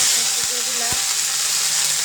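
Dried chillies frying in hot oil for a shrimp and jute leaf curry, giving a constant close, loud hissing sizzle with a couple of soft low knocks near the start.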